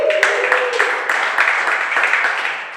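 A comedy show audience claps and cheers loudly and steadily, with a whoop rising at the start over dense, continuous applause.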